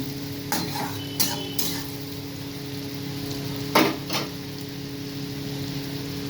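Onions frying in a pan with ginger and garlic, a steady low sizzle broken by a few sharp scrapes and clinks as a spoon stirs them, close and without talk.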